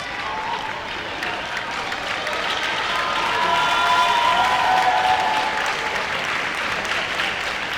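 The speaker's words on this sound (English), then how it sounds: "the crowd applauding as Hannah Tom of Bristol comes through now" An indoor athletics stadium crowd at a university championship meet applauds a runner coming through, a broad continuous wash of clapping and murmur that swells slightly midway, with no talking heard over it.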